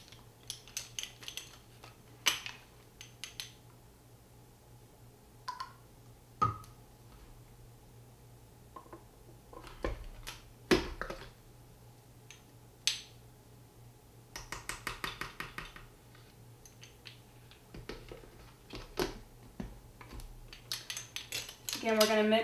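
A utensil stirs a glycerin solution in a container, mixed as part of restoring a 1978 Kenner Star Wars X-Wing toy. Scattered light clinks and scrapes come close and fairly quiet, in irregular bursts with pauses between.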